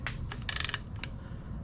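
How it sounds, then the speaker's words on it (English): A ratchet clicks quickly for a brief stretch as it works the harmonic balancer bolt on an LS-swapped Nissan 350Z, turning the engine over, with mechanical creaks before and after. "the motor does turn over if I try to do anything with the harmonic balancer bolt."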